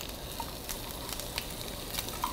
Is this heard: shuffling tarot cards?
no